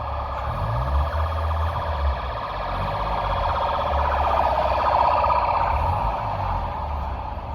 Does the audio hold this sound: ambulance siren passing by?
yes